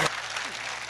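An audience at a Hindi comic poetry recital claps, a brief, dense wash of applause filling the moment with no break.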